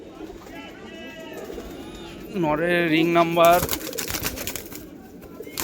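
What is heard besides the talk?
pigeons cooing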